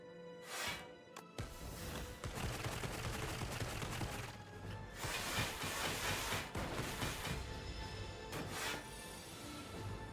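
A card effect called Hologram Barrage is played in Slay the Spire 2, giving a dense, loud run of rapid crashing, blasting impacts that last several seconds with brief dips between bursts, with no voices heard.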